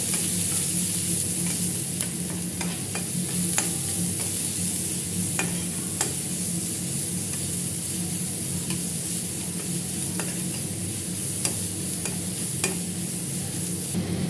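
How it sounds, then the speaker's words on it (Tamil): Grated carrot tempered with seasoning in a hot pan, a steady close sizzle and fry with scattered stirring clicks and spatula scrapes, no voices. "கேரட்டை சீவி அதையும் இதோட போட்டு நம்ம கொஞ்சம் தாளிச்சுட்டு"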